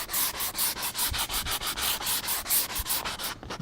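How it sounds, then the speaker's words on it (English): Sandpaper rubbing back and forth along the bottom edge of a wooden bookshelf leg, close and loud, in a steady rhythm of about fifteen quick scraping strokes with no talking. "When we get down to the bottom edge here, we're going to sand this"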